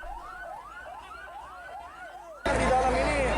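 Fire engine sirens wail in rapid rising sweeps as trucks head to a blaze in Makassar, first fairly clear, then half-buried under a sudden burst of loud noise and voices.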